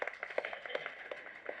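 Applause from an audience at a Chennai movie audio launch event, a steady patter of many hands clapping for the director, moderately loud with no talk over it.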